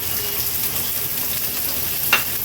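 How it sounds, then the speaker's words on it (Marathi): Chopped onion fries in about a tablespoon of oil in a pan, a steady, fairly loud hiss with one brief sharp clink near the end. "कांदा तेलावर छान परतून घेतलाय"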